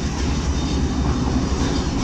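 A Chaman Passenger train running on rails from Quetta to Chaman, a steady, loud low rumble and rolling hum of the carriages with no pauses or talk.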